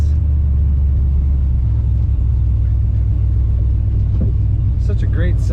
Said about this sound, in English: Such a great sound to this car.